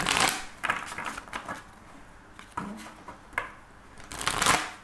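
Tarot cards being shuffled by hand in repeated bursts of riffling and flicking, close and fairly crisp, with short pauses between handfuls and no voice over them.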